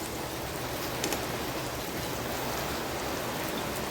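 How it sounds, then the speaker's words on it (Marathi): Heavy rain pours down in a steady, dense hiss, close and unbroken throughout with no voices. "आमच्याकडे पाऊस पण खूप जोराचा आहे आवाज येत असेल तुम्हाला"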